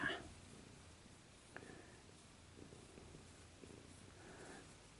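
An adult cat about four years old purrs softly and close by, a faint steady rumble with small knocks and a brief human vocal sound over it.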